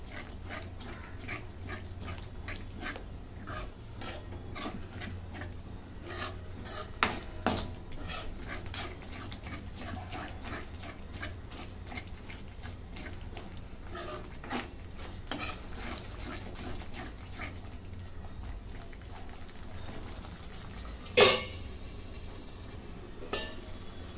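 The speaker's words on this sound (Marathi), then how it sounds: "आता दही पण चांगलं मिसळून घेते" Yogurt being stirred into chicken gravy in a pot, with soft scraping and clinking of a spoon against the pot over a low, steady background sizzle, picking up in a few louder knocks near the end.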